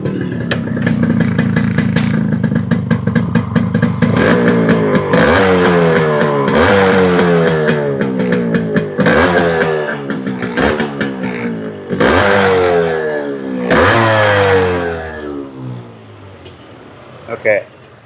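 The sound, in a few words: two-stroke Yamaha RX motorcycle engine started and revving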